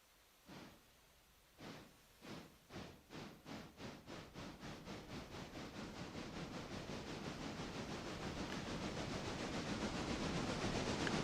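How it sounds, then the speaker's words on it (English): A model train rolls slowly through a wye on a small layout, its rail joints clicking in a steady beat that quickens and blurs into a continuous rattling rush as it gains speed, heard alone without talk. "It's silly turning trains on a Y."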